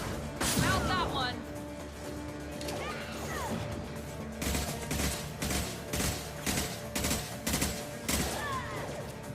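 Sniper rifle shots fire in Mass Effect 2 as a series of sharp, loud cracks in the second half, spaced roughly a second apart amid game noise and clatter, with a voice talking earlier.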